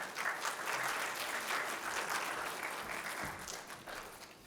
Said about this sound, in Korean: 우리 전도사님 나오실 때 박수로 환영하도록 합시다.